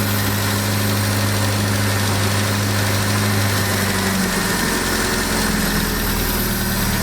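A 1979 Triumph Spitfire's engine idles loud and close, a steady low rumble with a faint tonal hum that shifts slightly partway through as it settles.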